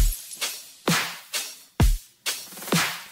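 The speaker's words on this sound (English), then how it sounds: "So the drums all together, they sound like this." A layered electronic drum loop from a remixed song, with booming kicks and crisp, reverse-style snares in a steady, punchy pattern, loud and alone.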